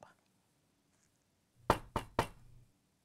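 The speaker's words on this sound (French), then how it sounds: "on cogna à la porte de sa chambre." Three firm knocks on a bedroom door, close and distinct in an otherwise quiet room, evenly spaced with a faint hum underneath.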